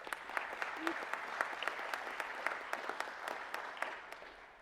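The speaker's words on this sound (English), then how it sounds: "Let's give him another round of applause." Steady applause from a crowd, many hands clapping continuously at moderate distance, with a faint voice or two mixed in.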